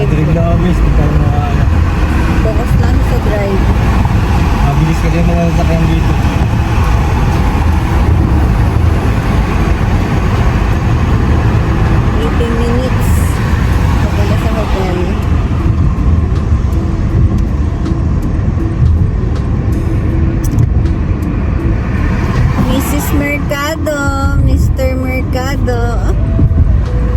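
A car drives through fast Abu Dhabi traffic with a constant loud road and engine roar. People talk over it for much of the time, and sharper clatter comes near the end.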